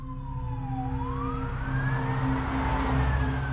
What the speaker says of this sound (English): fire trucks roared down the street with their sirens wailing